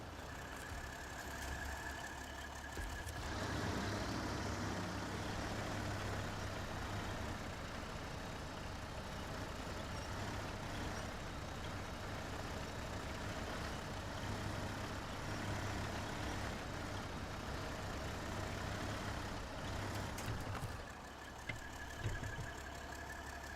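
Heavy Kenworth truck engine in the SnowRunner off-road game, a steady loud diesel drone with low rumble running throughout, dropping briefly near the end.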